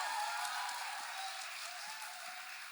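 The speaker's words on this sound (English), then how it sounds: "please, a round of applause" Audience at a film trailer launch event applauding, a continuous even roar of many hands clapping at a steady level from start to finish.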